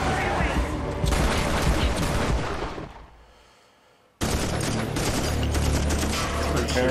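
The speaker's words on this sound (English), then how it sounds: "Shots fired." Gunfire in a police TV drama scene, with dense bursts of rapid shots that stop abruptly for about a second and then resume with the same intensity, loud and close.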